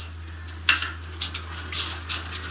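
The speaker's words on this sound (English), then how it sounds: "Keep stirring it so that no lumps are formed" A metal spoon scraping and clinking against a pan as a thick spiced mixture with fennel powder and dry ginger is stirred, several distinct taps at irregular intervals over a steady low hum.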